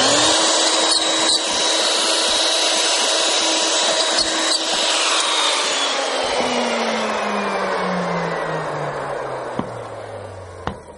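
Power drill boring holes into a wooden piece, a steady high whine under load that winds down in pitch as the bit slows and stops; no talk.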